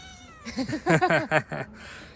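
A cat gives a series of short, rising meows in quick succession, close by and fairly loud, ending in a breathy huff.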